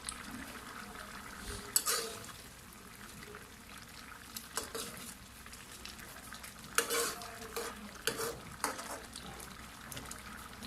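Miswa noodles cooking in a pot with sardines, giving soft stirring, gentle sizzling and the clink of a utensil against the pot, quiet and close.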